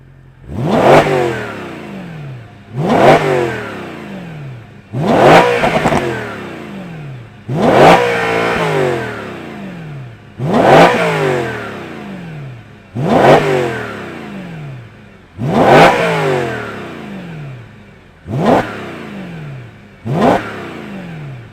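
A BMW E92 M3 Competition with its stock exhaust revs up sharply about eight times in a steady rhythm, each burst rising to a roar then dropping back to idle, loud and close.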